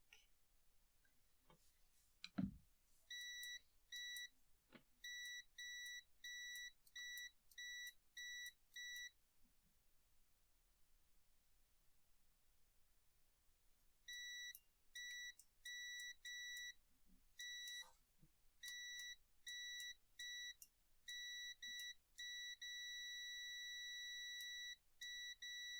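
A hacked electronic device sounds quiet, high, evenly spaced beeps in long repeating bursts, preceded by a single sharp click and broken by short pauses.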